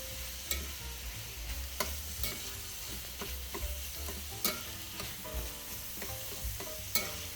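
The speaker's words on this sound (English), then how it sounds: "We'll stir the meat up some more." Meat for a spaghetti meat sauce sautés in a pan while being stirred, a soft continuous sizzle broken by repeated utensil scrapes and taps against the pan, close and fairly quiet, with no voices.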